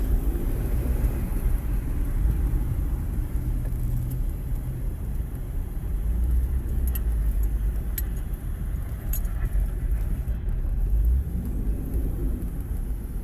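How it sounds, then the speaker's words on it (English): An Audi A6 accelerates hard, with a steady engine rumble and road noise heard from inside the car and a few faint rattles and clinks. "let's see if you can hear that turbo"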